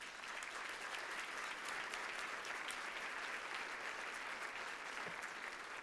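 A large audience gives a steady, continuous round of applause for a community leader, many hands clapping in an even, unbroken wash that sounds somewhat distant and holds level throughout.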